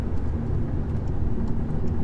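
Steady low exhaust drone from a car fitted with an Integrated Engineering downpipe while cruising, a continuous rumble heard from inside the cabin with no talk.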